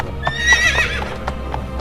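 A horse pulling a carriage along a dirt road gives a loud, close neigh over quick clip-clopping hooves in a brief burst.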